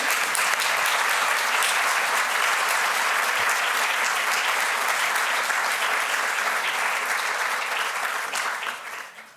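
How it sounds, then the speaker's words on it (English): Sustained audience applause at a livestreamed celebration of the Dalai Lama's legacy, a full even roar of many clapping hands that holds steady for several seconds before tapering off at the end. "Can we have applause for"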